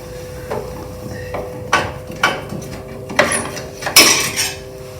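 Flathead screw being backed out of the headlight beauty ring on an MG Midget, a series of sharp close metallic clicks and scrapes from the screwdriver, spaced irregularly, with no talking.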